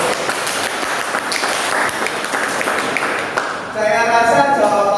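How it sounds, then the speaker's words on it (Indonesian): A classroom group applauds group 2 in a steady, continuous patter of clapping for several seconds, with a voice talking over it toward the end. "Beri tepuk tangan untuk kelompok"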